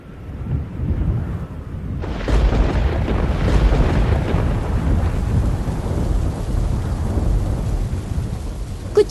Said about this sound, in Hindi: कुछ ही दिनों के बाद उस क्षेत्र में भारी बारिश हुई और तूफान भी आने लगी।